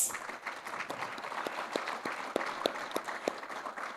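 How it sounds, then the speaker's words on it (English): A modest audience at a media awards ceremony applauds the winners, scattered distinct claps over a soft crowd murmur, fairly quiet and somewhat distant. "let us applaud all the winners"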